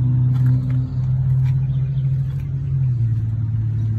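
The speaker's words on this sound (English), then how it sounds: "It's a 54-inch cut, and it has a 23-horsepower Kawasaki motor." A Husqvarna Z254F zero-turn mower with a fabricated 54-inch deck and a 23-horsepower Kawasaki engine runs steadily nearby, giving a low, constant droning hum with no talking.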